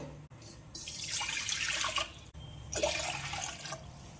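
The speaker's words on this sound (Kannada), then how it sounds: "2 ಕಪ್ ನೀರು ಹಾಕೋಬೇಕು ನಾವು" Water pours into a cooking pot in two bursts, a longer stream followed after a brief break by a second shorter pour, close and clear with no talk.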